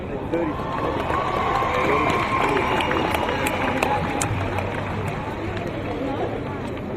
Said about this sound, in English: I'd like everyone to again give a big round of applause to our next speaker, who is Holly Crenord